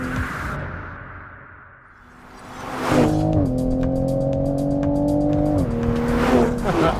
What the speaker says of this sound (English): And it does pops and bangs in the downshifts. I love the sound of that engine.